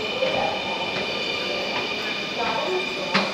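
A metro train arriving at a station in Diabari, Uttara, Dhaka: a continuous rumble and hum of rail cars with occasional clicks and squeaks, heard from the platform area with faint voices in the background.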